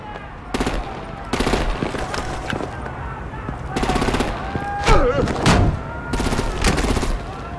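Gunfire and artillery in the Batman The Enemy Within video game, repeated loud bursts of shots at close range with short pauses between, amid clattering game effects and occasional voices.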